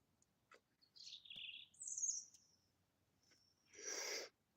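Faint garden birdsong: a few thin chirps and whistled notes scattered over quiet air, then a brief rush of noise near the end.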